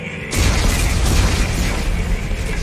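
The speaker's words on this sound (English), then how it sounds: "Computer, arm explosives." A loud, close explosion from detonated explosives in the game Dead Space 3: a sudden heavy boom that rolls on as a sustained rumbling roar, with no talking.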